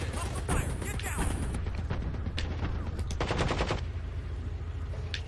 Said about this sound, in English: every time you pull it, it fires at least two rounds